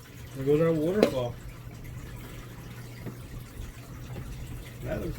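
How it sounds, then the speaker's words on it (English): Water from an aquarium filter's waterfall outlet flows steadily into a fish tank, a soft continuous trickle under a person's voice at the start and end. "There goes our waterfall."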